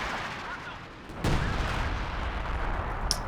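An LFH howitzer barrage in the Company of Heroes 2 battle game, with a sharp heavy impact followed by a sustained rumbling roar and a faint crack near the end.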